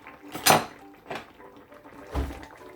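Cooking pot of gourd with snakehead fish being stirred and covered, three separate clanks and scrapes of utensil and lid against metal spaced about a second apart, close with quiet gaps between; no speech.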